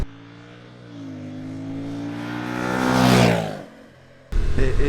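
A 2025 Honda NT1100 motorcycle engine under riding load, its steady harmonic drone building to a louder rev near the end, then abruptly cut off by a burst of wind buffeting.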